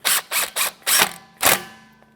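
A T30 bit tightening a brake mounting bolt on the rear hub of a 2014-2022 Chevrolet Trax, giving five short bursts of ratcheting clicks close up, the last one trailing off into quiet.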